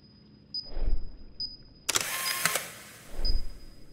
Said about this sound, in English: Click on the camera several times to reload the cartridge.